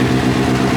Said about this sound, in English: Definitely a rough idle, isn't it?